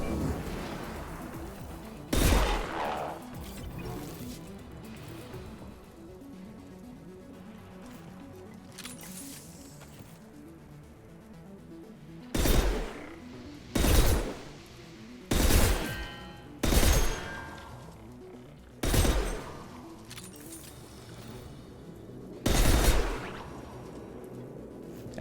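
Sniper rifle fire in Mass Effect 2, single sharp cracks spaced a second or more apart, one early, then a cluster of five and a final shot, loud over a quiet background.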